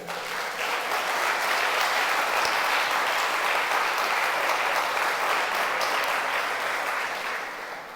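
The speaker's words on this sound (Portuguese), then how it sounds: "Dá um aplauso para Jesus aí." A church congregation breaks into sustained applause during a Bible doctrine sermon, dense and steady for about eight seconds before easing slightly at the end, with no voices over it.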